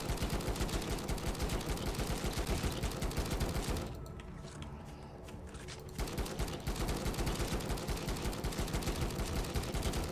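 Heavy, sustained gunfire in the zombie survival game Night of the Dead, with dense rapid shots filling the scene, a brief lull of about two seconds in the middle, then continuous loud firing resuming.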